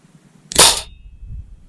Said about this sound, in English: First two shots are good. Second two shots got a bit naff.